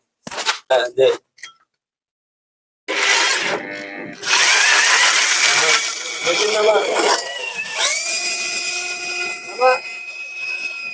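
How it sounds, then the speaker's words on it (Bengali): Bursts of mechanical whirring and grinding, then a loud sustained power-drill drone with a rising whine, close by, after a few short knocks and a pause, while drilling into a 4-inch wastewater pipe. "এক সাইড হয়ে ড্রিল চালাও"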